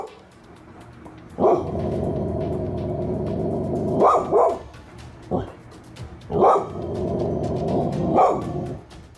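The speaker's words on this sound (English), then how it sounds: "She starts growling and barking more as she gazes upwards." A dog growls low and steady, broken by several sharp barks spaced a second or two apart, loud and close in an indoor room near a television.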